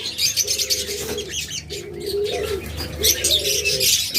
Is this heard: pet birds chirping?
yes